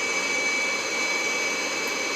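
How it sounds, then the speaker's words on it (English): A jet aircraft engine spools in reverse thrust after landing, throttled back to idle below 60 knots in fog, a steady loud roar with a high whine that never lets up. "you can see the reverse thrust to idle is below 60 knots"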